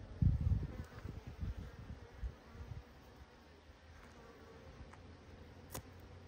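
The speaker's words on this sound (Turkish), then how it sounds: "Arı hareketimiz var arkadaşlar." Low humming buzz of many honeybees at a hive entrance close by, strongest at first then settling into a quieter steady drone, with a few faint clicks.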